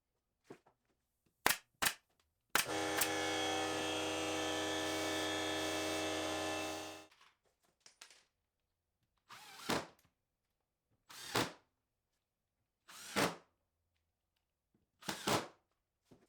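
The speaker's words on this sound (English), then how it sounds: "I'm just using some screws here in the corners to make sure everything stays super strong" A power drill drives screws into the corners of a hybrid workbench, with one long steady whirring run of about four seconds, followed by a string of short bursts with quiet gaps between them.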